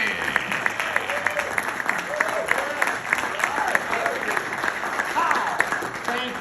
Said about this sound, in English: Let's hear a big round of applause for George.